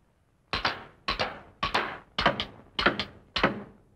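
Six crisp cap-firing bangs from a Lone Ranger rapid-fire toy revolver, evenly spaced about half a second apart. Each is a sharp, close snap with a short ringing tail, and nothing else is heard.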